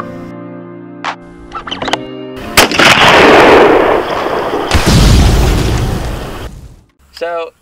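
A 6.5 Creedmoor Ruger Predator rifle fired at a 300-yard range: two loud, close booming shots with long rolling echoes, and brief voices between and after them.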